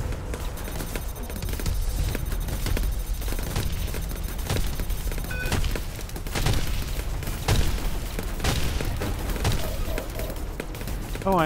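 Ship turrets firing in the space combat game Star Conflict, continuous rapid bursts and booms layered into a dense barrage, loud throughout with brief electronic tones, no talk over it.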